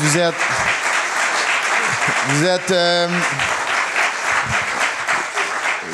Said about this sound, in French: J'aimerais qu'on applaudisse tous les candidats et candidates qui ont participé cette année.